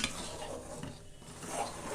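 Steady scraping and stirring of thickening syrup for ginger candy in a pan, a soft continuous swish with faint bubbling, close by and moderately quiet.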